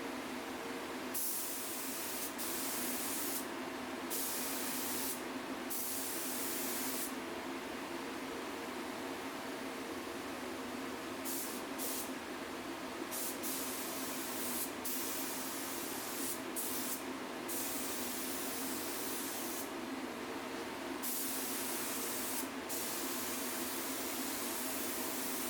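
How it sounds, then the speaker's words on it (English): A Graco paint spray gun hisses continuously and loudly while spraying old office furniture, a steady broadband spray broken by brief pauses in the trigger, with no talking. "I like the way that the Graco sprays a little bit better too"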